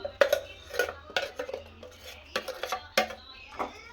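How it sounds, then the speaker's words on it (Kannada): A spoon stirs palak paneer gravy with ground masala in a metal pan, giving sharp clinks and scraping knocks in an irregular rhythm, close and fairly loud with short pauses between strokes. "ಇವಾಗ ಇದನ್ನು ಹಾಕ್ಕೊಂಡು ನೀಟಾಗಿ ಮಿಕ್ಸ್ ಮಾಡ್ಕೊಳ್ಳೋಣ"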